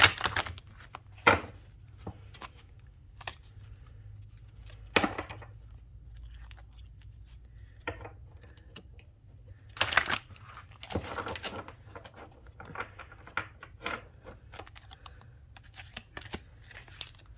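Stiff oracle cards shuffled by hand in a quiet room, giving irregular crisp riffles and slaps spread across the stretch, with brief louder bursts and a low steady hum underneath.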